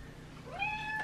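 A house cat meows in a single rising-then-falling call, close by and moderately loud, with quiet room noise before it.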